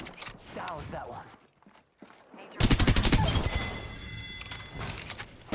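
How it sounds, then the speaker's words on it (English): Rapid automatic gunfire in Apex Legends breaks out after a short near-silent gap, loud and close, running as a dense stream of shots. Voices come before it. "Getting shot at!"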